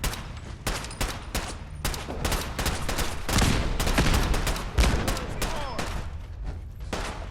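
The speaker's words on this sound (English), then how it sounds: "Gauss rifle." Gauss rifle gunfire in Fallout 4: a rapid series of loud, sharp shots crack over a busy battle din, with bursts crowding together through the middle and scattered shots continuing to the end.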